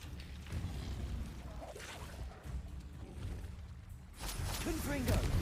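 A Confringo spell explosion in Hogwarts Legacy sounds as a low, rumbling blast amid ongoing combat noise, swelling into a louder, sharper burst near the end.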